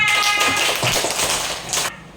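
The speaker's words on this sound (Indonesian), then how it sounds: "tepuk tangan semuanya." A classroom of children claps their hands together, a close, lively patter of uneven claps that fades slightly before stopping abruptly near the end.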